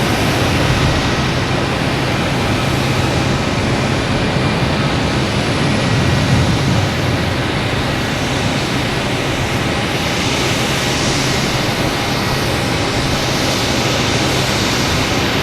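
An Airbus A321 of Delta arriving at Boston Logan Airport from Atlanta gives a loud, steady engine roar that fills the whole stretch without a break, with no voices.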